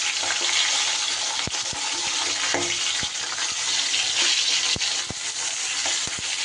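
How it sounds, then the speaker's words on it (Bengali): Rohu fish pieces fry in oil with a dense, even sizzle and hiss, punctuated by sharp pops and spatula clicks, close and steady throughout, no voices. "2 পিস করে 4 পিস মাছই কিন্তু আমার বেশ সুন্দর করে ভাজা হয়ে গেছে"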